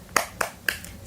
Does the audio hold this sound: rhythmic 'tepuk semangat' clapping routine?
yes